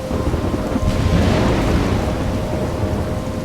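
Thunderstorm with heavy rain in the game Life is Strange, a loud continuous roar of rainfall with a deep rumble of thunder swelling in the middle, no speech.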